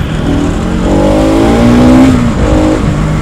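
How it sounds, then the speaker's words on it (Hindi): Motorcycle engine revving hard during a ride, a loud continuous roar with rising and falling pitch sweeps close to the rider, steady throughout with no talk. "भाई साउंड चेक कर रहे हो बाइक का, क्या साउंड आ रहा है, अल्टीमेट धूम धूम"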